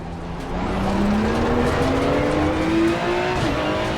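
A GT2 race car engine in Assetto Corsa Competizione roars steadily with rising pitch as it accelerates, tires squealing at moments, loud and continuous throughout.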